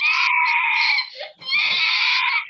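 Loud, shrill screaming from an unmuted participant on a Zoom call during a leadership training session, two long sustained cries separated by a brief break, with no talk over them.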